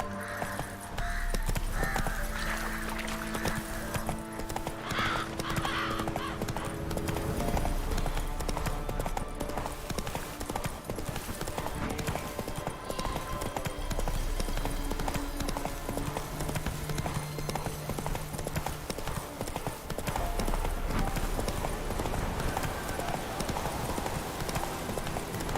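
Horse galloping in a video game, rapid rhythmic clip-clop of hooves running continuously and close, layered with game music and ambient noise, with a voice occasionally talking.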